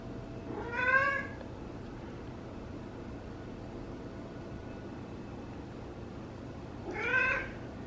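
A chatty, heavyset cat meows twice, a drawn-out wavering call near the start and another near the end, separated by several seconds of steady low background noise.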